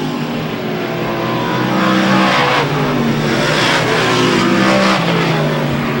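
A dirt modified race car's engine roars steadily in a qualifier heat at an oval dirt speedway, loud and sustained with rising and falling pitch as the car passes.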